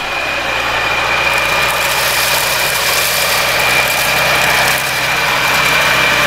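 A cordless stick vacuum roars steadily at full power, a loud, constant high-pitched whine with a hissing airflow rush and no pauses.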